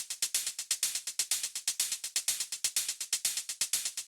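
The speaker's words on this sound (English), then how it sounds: "and we've got 2 offbeat hi-hats, and they sound like this together." Two offbeat electronic hi-hats from a melodic techno drum rack tick in a fast, even pattern of crisp, bright, short hits that repeat steadily with nothing else around them.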